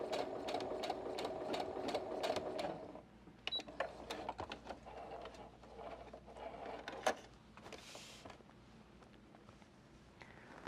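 Sewing machine running a blind hem stitch along a folded fabric hem, a steady fast mechanical whir with rapid needle ticks for about three seconds, then quieter intermittent clicks and short bursts as the stitching continues.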